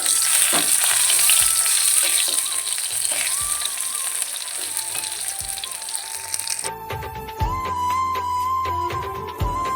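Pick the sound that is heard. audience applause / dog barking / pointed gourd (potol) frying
pointed gourd (potol) frying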